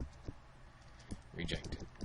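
Keyboard typing on a computer while entering text in a workflow editor, a short burst of quiet keystrokes with a few isolated taps before a denser cluster near the end; no speech is heard.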